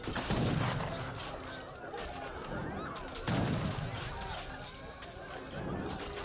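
Gunfire from an Age of Empires 3 match, Portuguese against Iroquois, comes as scattered volleys and crackling shots in a busy battle mix, with a commentator talking over it throughout.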